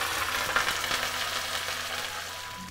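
Dried red chilies and curry leaves crackle and sizzle in hot tempering oil with mustard seeds and urad dal, a steady, hissing fry heard close without any talk.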